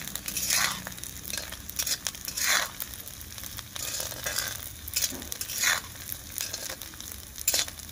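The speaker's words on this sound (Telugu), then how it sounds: "దీంట్లో మనం వేయించుకునేది ఏంటంటే కొబ్బరి ముక్కలు మాత్రం బాగా ఎర్రగా వేయించుకోవాలి." Coconut pieces fry in a hot pan for a chili pickle, a steady crackling sizzle broken by periodic scraping stirs, close and fairly quiet with no voices.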